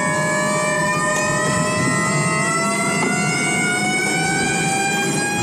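Loud, high whine from the single-gear gearbox of a Hyundai RM20e electric car climbs steadily in pitch under acceleration, close and constant throughout.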